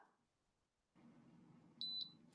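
Two short, high electronic beeps sound in quick succession from a nearby device over a faint low background hum.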